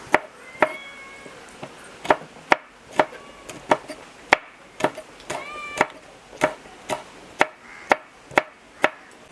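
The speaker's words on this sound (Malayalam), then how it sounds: "ഒരു 6 പച്ചമുളക് ചെറുതായിട്ട് അരിഞ്ഞെടുക്കാം" A knife finely chops six green chillies on a board, steady sharp taps repeating at a quick, even rhythm, close and clear, with faint background noise between strikes.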